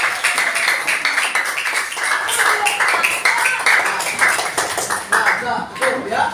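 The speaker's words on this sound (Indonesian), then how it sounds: "Berikan tepuk tangan." Students in a classroom burst into enthusiastic clapping, a dense, steady applause of many hands lasting several seconds, with voices mixed in.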